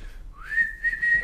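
A person whistles during a staged reading of an Elizabethan play, a rising note sliding into a sustained tone, then two short repeated phrases, clear and close over a quiet room.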